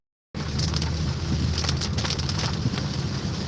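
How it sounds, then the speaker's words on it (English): Heavy rain drums on a car while driving, a dense continuous roar of drops and road noise starting abruptly and holding loud and steady. "Lot of rain."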